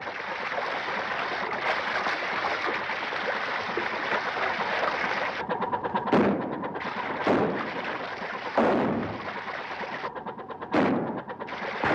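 Gunfire in a 1933 waterfront film: sharp bursts of shots crack out several times, loud and close, over a continuous rushing wash like water or engine noise on an old soundtrack.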